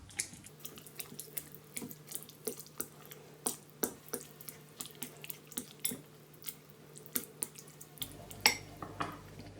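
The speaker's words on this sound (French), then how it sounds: "Et 20 g de beurre fondu. Et on va mélanger le tout." Melted butter, 20 g, being stirred into mashed potatoes for a chicken hachis parmentier, with repeated close clinks and scrapes of a utensil against the bowl at a steady, uneven rhythm and no talking.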